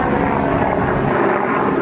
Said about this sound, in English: have an airplane going overhead.